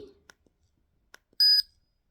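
An insulin pump alarm sounds a single sharp, loud electronic beep lasting about a quarter second, preceded by a few quiet clicks and taps.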